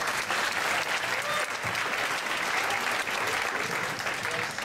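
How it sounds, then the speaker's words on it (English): Sustained audience applause at a poetry night in a room, dense steady clapping from many hands filling the whole stretch without letting up. "Can we give him another round of applause,"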